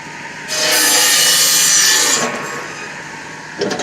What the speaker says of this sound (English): how hard can you hear that sawing sound?